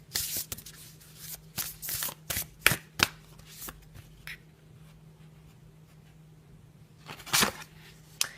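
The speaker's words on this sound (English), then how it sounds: "Let's pull out one more card" Tarot cards are shuffled by hand in quick, crisp bursts of riffling and slapping, close and fairly quiet, with a pause of near silence before one last shuffle.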